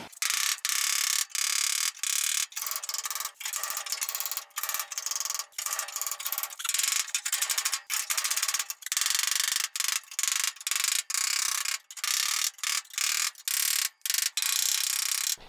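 A stuck dent in the step panel of a Mazda RX-7 FD3S is worked with a dent puller, making rapid ratcheting clicks in fast bursts broken by brief pauses, close and loud, with no voices.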